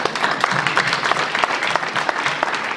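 Crowd applause at a sports trophy presentation ceremony, steady moderate clapping from a sizable audience throughout, with a few sharper individual claps standing out.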